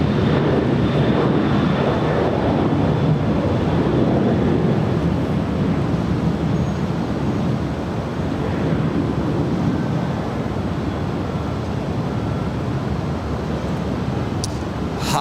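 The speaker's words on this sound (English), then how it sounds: "This is Fedex 2750 landing there on the south side from Indianapolis. It's a 23-year-old MD-11 freighter." A 23-year-old FedEx MD-11 freighter lands at LAX, a steady broad roar of jet noise that holds loud through the whole stretch, with some wind buffeting the microphone.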